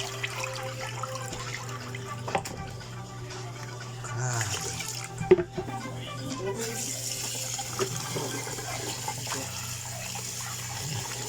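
Rice is rinsed by hand in water, with soft sloshing and swishing and a few splashes over about eleven seconds, fairly quiet and close, while a person talks intermittently.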